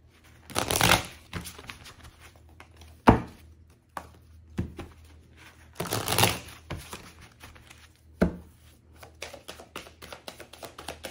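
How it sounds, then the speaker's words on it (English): A deck of tarot cards is shuffled close by, with irregular bursts of riffling and flapping separated by sharp taps and thumps, no voices over it. "Shuffle one more time."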